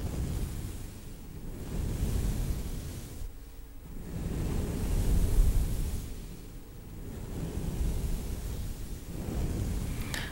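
Soft ASMR brushes swept directly across the microphone, producing close, broad whooshing swishes in slow repeated passes with brief dips between strokes, no talking.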